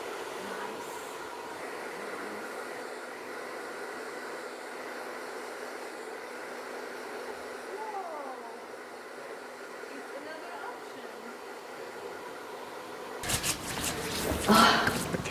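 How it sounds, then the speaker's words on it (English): A hair dryer blows over hair after a long-to-short haircut, a steady airy whoosh running through most of the stretch, with a brief louder burst of rustling near the end; no speech audible. "Let's blow dry it."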